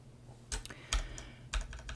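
Typing on a Kinesis Advantage 2 ergonomic keyboard, a few close, distinct clusters of key clacks at an irregular pace over quiet room hum, no voices.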